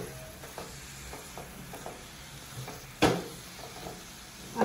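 Village-style palak sua (spinach and dill) sabzi is stirred as it fries in a pan: soft, scattered scraping strokes over a low sizzle, with one sharp, loud clank near the middle and another at the end.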